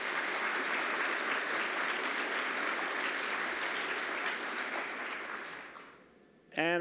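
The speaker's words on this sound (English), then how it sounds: "Let's give her a big round of applause." Sustained applause from a conference audience honoring a speaker at a housing event, dense and steady for about six seconds before tapering off, ending with a brief tonal sound.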